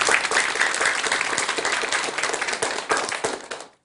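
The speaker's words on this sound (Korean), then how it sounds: "뜨거운 박수 한번 주시기 바랍니다" An audience at a Buddhist monk's lecture breaks into brisk, close applause, with many sharp hand claps in a busy, uneven rhythm that fades out at the end.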